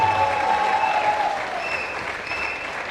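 Audience applauding at a live film event for Vikram, a dense, steady clapping that stays loud throughout and eases slightly toward the end, with faint crowd murmur beneath.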